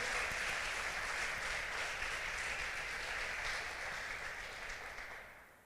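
Church congregation applauding during a sermon, a sustained wash of many hands clapping together that holds steady and then fades out near the end.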